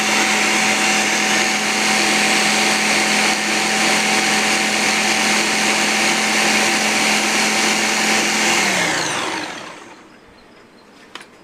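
A blender purees whole plums with their skins on, a loud, steady whirring roar that runs continuously for several seconds, then spins down and stops.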